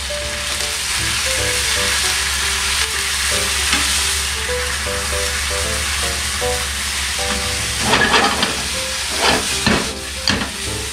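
Yakisoba noodles frying in a pan, with water poured in, sizzle and hiss steadily and loudly throughout. Sharper bursts of crackling and steam come up near the end, and there is no talking.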